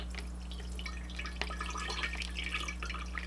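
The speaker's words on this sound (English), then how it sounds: "The first pour for Kool-Aid." Kool-Aid poured into a container holding a Funko Pop figure, a steady close liquid trickle with scattered drips and splashes running continuously under a low electrical hum.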